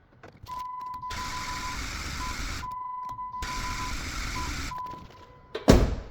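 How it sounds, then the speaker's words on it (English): A Jeep Grand Cherokee WK 4.7 engine, just fitted with a remanufactured cylinder head, is cranked in two long, steady bursts with a short pause between, a high whine riding over the starter, then a sharp clunk at the end. "So I'm attempting to crank and get a little bit of oil up to the top of the motor."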